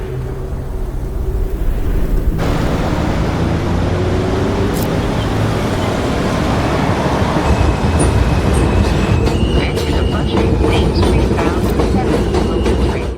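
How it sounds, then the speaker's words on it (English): A New York subway train at Court Square Station rumbles loud and close with steady clattering wheels, rail rattle and faint high squeals, continuous throughout without speech. "They hop up on this train right here,"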